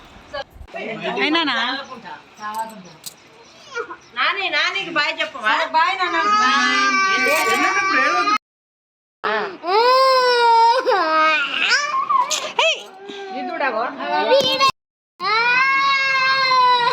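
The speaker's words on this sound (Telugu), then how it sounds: "లాస్ట్ మినిట్లో ఏడుపు స్టార్ట్ చేశాడు" A young boy crying hard at close range, wailing sobs in long rising and falling bursts with brief breaks, continuing for the whole stretch.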